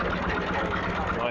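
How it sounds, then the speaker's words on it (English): A Garrett steam traction engine runs at an outdoor steam rally at Old Warden, Bedfordshire, giving a steady, continuous mechanical chug and rumble close by. Voices can be heard over it. "Oh, that's a lovely Garrett, that sounds very nice."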